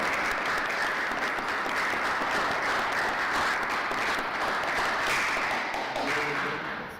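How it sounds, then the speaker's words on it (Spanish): Sustained audience applause after an engineer's talk on automotive acoustic components, steady and dense for most of the stretch before tapering off at the end, with faint voices mixed in. "regalémosle un aplauso al ingeniero, por favor"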